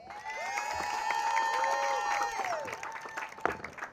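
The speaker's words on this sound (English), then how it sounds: "Thank you for that wonderful round of applause." An outdoor crowd at a domestic violence awareness walk applauds and cheers, with clapping under rising whoops and shouts that fade toward a final clap or two.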